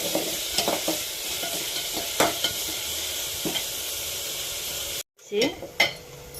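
Onions sautéing in oil in a pan for a Tamil garlic curry, with a steady sizzle and repeated spoon stirs, a brief cut near the end followed by louder clattering stirs.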